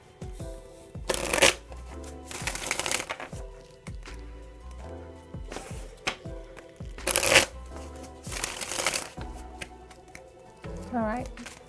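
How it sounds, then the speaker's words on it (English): Tarot cards shuffled by hand in several loud riffling bursts, each a second or so long and separated by pauses. A voice speaks now and then between and over the shuffles. "I will definitely pull that card."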